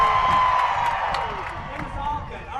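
Fans at a demolition derby in Heber, Utah cheering and whooping, a broad steady roar of voices and clapping with scattered whistles, holding strong throughout.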